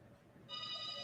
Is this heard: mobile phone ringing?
yes